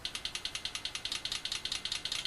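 Simulated car engine idle rendered as a steady train of rapid, evenly spaced mechanical clicks or pulses, close and fairly quiet, with no voices.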